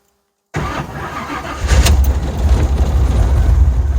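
A Chevy Nova engine cranks after a short silence and catches, quickly settling into a loud, rough, steady idle rumble close by.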